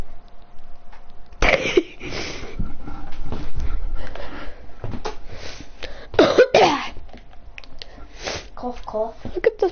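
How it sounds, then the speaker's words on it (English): A couple of sharp, close coughs burst out amid ongoing talk and background noise. "Cough."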